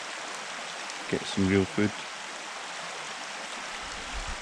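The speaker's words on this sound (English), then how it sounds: "nice sound of the river actually" Steady broadband rush of a river flowing beside a campsite in the Scottish Highlands, running continuously at moderate level with a short burst of speech partway through.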